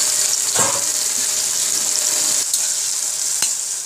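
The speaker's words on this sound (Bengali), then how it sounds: "এবার সে পটল ভাজি করবো। সাদা তেল দিলাম।" Pointed gourd (potol) fries in white oil with a loud, continuous sizzle up close, broken by a few sharp utensil clinks.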